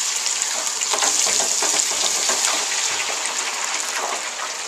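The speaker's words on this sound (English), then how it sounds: "I'm not gonna make you sit here and watch potatoes fry" Potatoes frying in hot oil for chili cheese chips, a dense, steady crackling sizzle, close and loud, with no voices.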